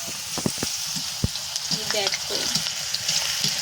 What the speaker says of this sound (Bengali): তেলটা কিন্তু হালকা গরম হয়ে গেছে, আর এখন অল্প করে চিপসগুলো দিয়ে দিচ্ছি